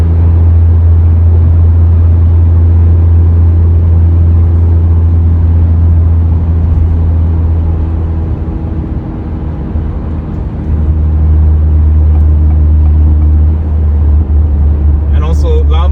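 A Honda Civic Si / Acura Integra with an MBRP exhaust drones steadily at cruise on a night drive, its low exhaust rumble dipping briefly before building again, loud and close, as if heard from inside.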